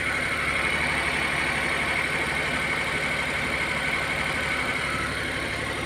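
An engine runs at a steady idle right after an overhaul, a constant, even rumble with no revving or talk.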